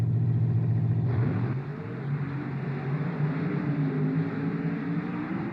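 Monster trucks roar and rev hard as they launch off the start line in a race at the 1996 PENDA Monster Truck Challenge in Lima, Ohio. The engine pitch climbs and shifts, loud and sustained throughout.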